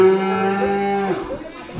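A Scottish Highland cattle gives a single loud, close moo, a rich droning call lasting about a second before breaking off into a rougher tail, with faint background noise.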